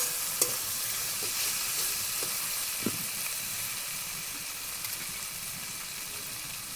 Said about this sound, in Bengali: দেখো মশলাটা আমার কত সুন্দর ভাজা হচ্ছে।